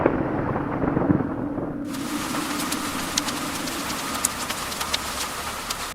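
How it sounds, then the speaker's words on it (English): A night storm brings steady heavy rain hissing on surfaces, close and dense throughout, with scattered sharper drops or cracks. "A stormy night."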